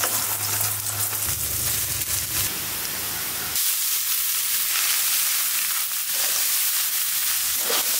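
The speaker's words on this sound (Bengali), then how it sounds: "এখন ভাতটা ভাজবো ভাবছি" Rice frying with egg in oil gives a loud, steady sizzle and hiss. Scraping stirs break it up here and there, and no one speaks.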